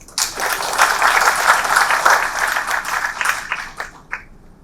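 A round of applause welcomes the speaker at an evening talk on the future of payments: dense, steady clapping from a large audience that rises quickly, holds for about four seconds, then thins out with a few last claps.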